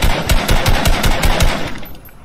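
Minigun fire in Fortnite rattles in a rapid, loud continuous burst of shots that tapers off toward the end.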